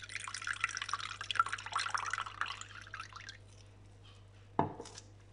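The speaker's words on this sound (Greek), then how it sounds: "Στίβω 2 λεμόνια. Αδειάζω το χυμό σε ένα μπολ" Squeezed lemon juice poured into a bowl, a soft trickling, dripping stream that runs a few seconds and fades, followed by one brief clink near the end.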